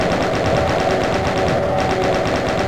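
Rapid, continuous gunfire in the video game Doom II, a dense, loud, unbroken stream of shots with no talk.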